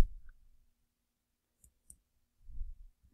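Computer mouse clicks, a few sharp brief clicks spaced apart, close and quiet, with soft low handling bumps between them.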